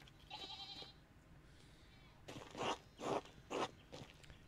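Sheep bleat in a video game set in a rural village, several short wavering bleats in a row, fairly close against a quiet background with a faint higher trill earlier.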